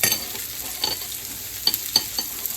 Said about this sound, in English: My oil's hot enough now, so I believe I'm going to try a floret in it.